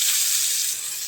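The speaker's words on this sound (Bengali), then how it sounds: "বেগুন ভাজি করতে আসি" Eggplant frying in a pan, heard as a brief, steady hiss of sizzling oil, close and fairly loud, with no other sounds.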